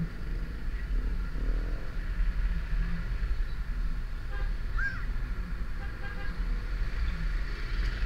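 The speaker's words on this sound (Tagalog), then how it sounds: "Dito pa nga lang traffic." Road traffic on a congested street in the Philippines where roadwork is under way, with a constant low rumble of passing vehicles and a short car horn toot in the middle, fairly distant.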